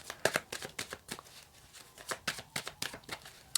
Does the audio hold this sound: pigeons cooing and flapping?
no